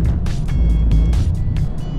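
A BMW drifts on the wet, rain-soaked Nürburgring, its engine droning loud and close inside the car with rhythmic surges of tyre spray and hiss, no voices heard.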